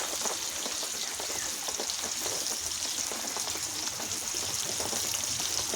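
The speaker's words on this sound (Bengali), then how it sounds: "বাইরের বৃষ্টি হচ্ছে হালকা হালকা এতক্ষণ ভালোই জোরে বৃষ্টি হয়ে গেল" Light rain falling outside, a steady close patter of drops on surfaces that holds evenly throughout with no talk.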